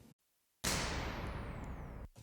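A burst impulse response from an East German Superverb, a sharp gunshot-like crack that fills the whole range and then holds as a dense wash of reverb for about a second and a half before cutting off, alone with no talk.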